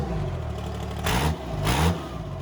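Pickup truck engine revved twice in short bursts close by, idling between revs, with the truck body shaking; no talk.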